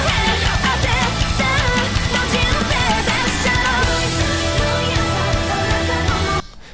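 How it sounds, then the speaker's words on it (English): A high, piping Japanese flute-like wind instrument plays through a dense band song, its shrill line riding over drums and full accompaniment for several seconds before the music cuts off abruptly. "It sounds like a very high-pitched flute"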